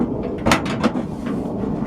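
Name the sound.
opening the door of a restored car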